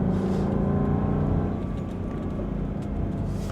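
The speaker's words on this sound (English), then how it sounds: "you can keep it in the gears a little longer and enjoy the V8" A 2025 Land Rover Defender 90 with a supercharged 5.0-litre V8 rumbles steadily and loudly from the cabin, a deep continuous engine drone held in gear with a slight wavering note and no talking.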